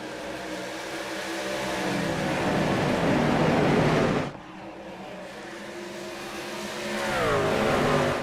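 A pack of race cars in the iRacing simulation at Dover's Monster Mile roars away at the green flag, the engine drone swelling loud as they accelerate, dipping sharply as they pass, then building again.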